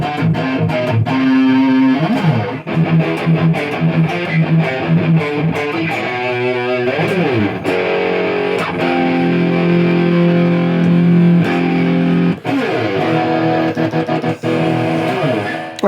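Firefly EVH Wolfgang style electric guitar played loud through heavy distortion, with sustained chords, quick riffs and ringing single notes alone, no talking.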